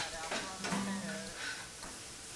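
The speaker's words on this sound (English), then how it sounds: "I'll add some onions and stir fry until they're soft" Onions stir-fry in garlic oil in a frying pan, giving a soft, steady sizzle with a spatula scraping and stirring, heard fairly close and quiet.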